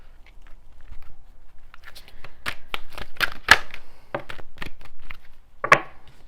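A deck of oracle cards being shuffled by hand, a quick run of crisp, papery flicks and taps in an irregular rhythm, close and moderately quiet.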